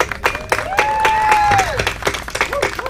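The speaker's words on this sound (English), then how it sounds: "Would you give them a round of applause?" Crowd applause at an outdoor melon festival in Winston-Dillard, clapping and cheering in bursts with a sustained tone running through the middle, loud and close.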